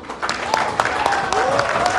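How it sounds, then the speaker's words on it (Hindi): Audience at a televised news stage event applauding to welcome actor Ashutosh Rana, continuous crowd clapping with sharp individual claps, while a presenter's voice speaks over it. "तालियों की गड़गड़ाहट से स्वागत कीजिए आशुतोष राणा जी का"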